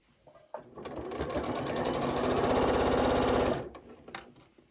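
A Janome 8200 QCP sewing machine stitches down a fabric bowl cozy, a steady close motor whir with rapid needle chatter that swells and runs for a few seconds, then stops with a couple of small clicks.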